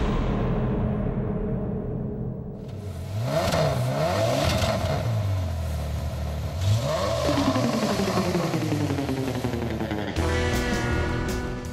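A Ferrari sports car engine revs hard and loud, rising and falling through repeated sweeps of throttle, close and continuous with no talk, ending in a sharper high-pitched burst.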